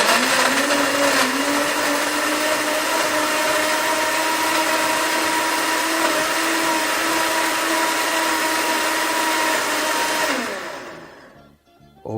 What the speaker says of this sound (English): So straight onto the blender.